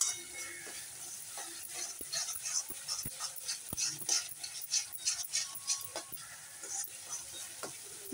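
Spiced masala with Kashmiri chili powder and hot chili powder fries in a pan for a spicy banana dish, giving a steady soft sizzle broken by scattered clicks and scrapes of a spoon stirring it.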